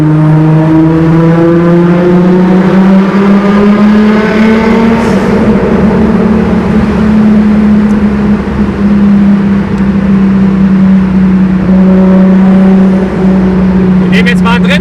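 A Nissan Skyline R33 GTST with a GTX3076 turbo pulls through a tunnel in fourth gear, its engine a loud, booming drone that rises steadily in pitch, echoing off the walls throughout.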